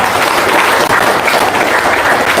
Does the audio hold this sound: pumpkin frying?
no